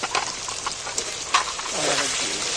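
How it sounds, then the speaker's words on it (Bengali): Spices with turmeric and Kashmiri red chilli stirred and fried in hot oil for chicken curry, a soft steady sizzle with light scraping stirs near the pan. "তেলের মধ্যে ফের একটু নাড়াচাড়া করে ভেজে নেব"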